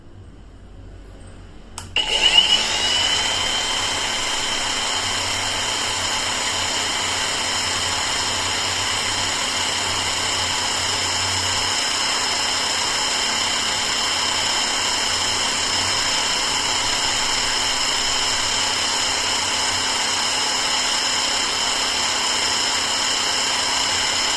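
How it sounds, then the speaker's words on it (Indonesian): A Dongcheng DCSP02-180 car polishing machine set to 2000 speed switches on with a quick rise and then runs steadily, a loud continuous motor whir with a broad hiss, no talking. "Oke, kita tes yang 2000-nya di dimmer di settingan 2000."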